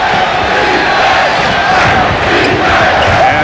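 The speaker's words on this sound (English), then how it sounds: "the first chant of defense from the crowd" A packed arena crowd at a 1993 Eastern Conference Finals Game 1 between the Knicks and Bulls chants defense in a loud, continuous, rhythmic roar.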